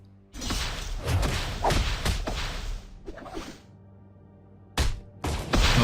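Gamma Bomb attack in the video game Marvel Avengers Alliance: a burst of sharp whooshing swipes and heavy thuds, then a short lull before another loud impact and a rising blast at the end.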